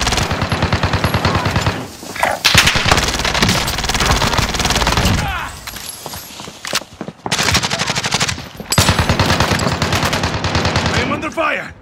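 Sustained automatic gunfire in the Warzone video game, loud bursts of rapid machine-gun fire broken by short pauses, with overlapping shots and a brief lull midway before the firing resumes.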